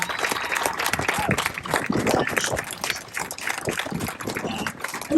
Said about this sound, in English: So a big round of applause for the Packerland Hog Chapter